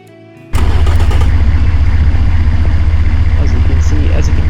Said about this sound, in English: As you can see, as you can hear, it idles like a truck engine.